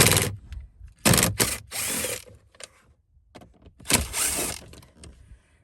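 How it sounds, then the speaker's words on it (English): An impact wrench with a 7mm socket removes bolts on a Ford F-150 during a cabin air filter replacement, loud close bursts of whirring rattling, then pauses and small clicks between each burst. "I'm using an impact wrench, but just remove these."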